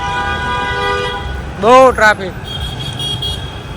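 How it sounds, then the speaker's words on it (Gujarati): Car horns honk in heavy city traffic in Ahmedabad, two loud close blasts standing out over a steady roadway rumble, with someone talking throughout. "આ બાજુથી હોર્ન સંભળાય, આ બાજુથી હોર્ન સંભળાય"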